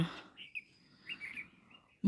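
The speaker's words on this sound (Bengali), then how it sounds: "যে পাখিগুলা চুপটি করে বসে আছে কারেন্টের তারে" Small birds perched on an electric wire give a few scattered faint chirps, brief high calls spaced apart over a quiet background.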